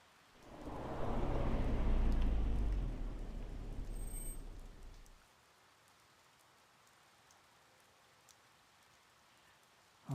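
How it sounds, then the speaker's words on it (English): Cold rain pours in Vine Park in the Detective Pikachu video game, a dense hiss that swells loud for several seconds and then drops abruptly to a faint, steady patter. "and a cold rain started to fall."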